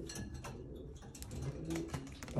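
Breeder pigeons in a cage give low, soft coos, faint and close, with light rustling and ticking sounds around them.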